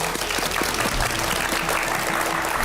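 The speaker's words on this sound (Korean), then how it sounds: "박수로 맞아주시죠" An audience at a lecture event applauds to welcome a speaker to the stage, with steady, fairly loud clapping over a faint low rhythmic tone.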